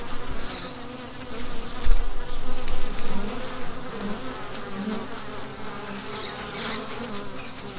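Honey bees buzzing steadily at a strong, active hive in autumn, a dense, continuous drone up close with no voices over it.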